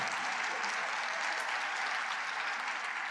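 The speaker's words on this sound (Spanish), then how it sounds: "dales un aplauso a las chicas" An audience applauding female champions, a dense and steady wash of clapping from a crowd that holds at an even loudness from start to finish.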